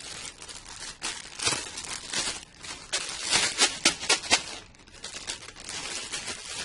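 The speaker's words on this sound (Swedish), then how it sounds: "Om jag har en fylld plastpåse och öppnar den, åker luften ut?" A filled plastic bag is opened and crinkled close up, giving bursts of crisp rustling and crackling that rise and fall over several seconds.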